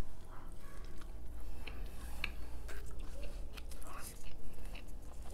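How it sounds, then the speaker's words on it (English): Someone eats spicy potato wedges, with soft crunching and chewing close to the microphone and quiet mouth sounds throughout. "let's dig into the sad potato wedges because I just want to get these over with."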